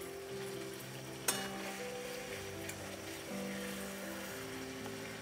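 Pabda fish sautéing in a pan over low heat, a quiet, steady sizzle with faint stirring, one brief clink of utensil against pan, and a low background hum.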